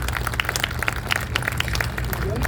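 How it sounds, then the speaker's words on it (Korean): An audience claps for a film director at a memorial ceremony, scattered, uneven hand claps over a steady low hum, with murmuring voices in the room. "허은도 영화 감독님께 큰 박수 한번 부탁드리겠습니다"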